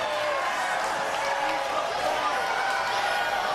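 A wrestling arena crowd at a live 2-on-1 match cheers and roars in a steady, dense wash of noise, with an announcer's voice talking over it.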